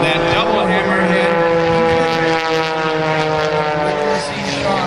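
An aerobatic propeller airplane flying a warm-up routine at a beach airshow, its engine a loud, steady, harmonic drone that holds nearly level for the whole stretch.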